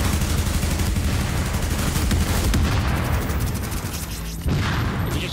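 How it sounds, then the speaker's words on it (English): Dense, loud gunfire and booming explosions fill a firefight in the video game The Division, with shotgun blasts among continuous shooting and no voices. "Shotgun."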